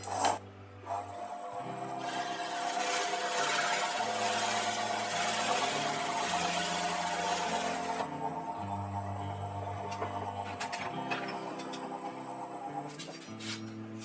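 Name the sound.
drilling a recess in a wooden bowl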